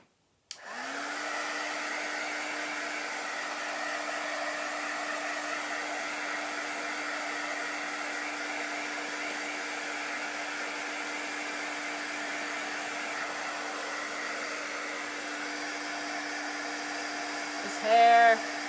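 A hair dryer blows on a chalk craft project, switching on and running as a steady, close, whooshing hum for most of the stretch, with a short higher click or tone near the end.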